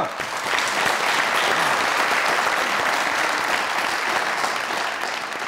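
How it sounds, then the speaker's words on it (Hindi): Audience applause on a comedy talk show set, a loud, even wash of clapping that holds steady from start to finish with no talk over it. "इनके लिए तालियां"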